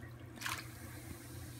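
Lavender bath product fizzing and bubbling in bathwater, a soft close effervescent hiss with a brief brighter burst of bubbles, otherwise quiet and low.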